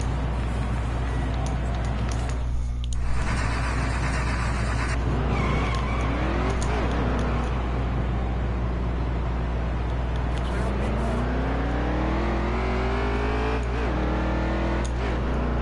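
Race car engine in the NASCAR Heat 3 video game on a 1.5-mile speedway, loud, rising and falling revs with upshifts and a long climbing pull near the end, a voice talking over the steady engine drone.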